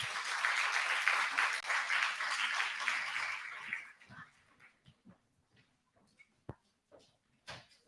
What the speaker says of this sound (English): I request a big round of applause for her and my visitors.